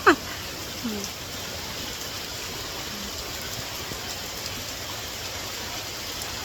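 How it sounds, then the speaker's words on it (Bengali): Steady rain falling outdoors, an even hiss of drops that holds constant throughout, with a brief knock at the start. "বাইরে বৃষ্টি হইতেছে, বৃষ্টির মধ্যে ভিজা ভিজা সব আনা নেওয়া করতেছি।"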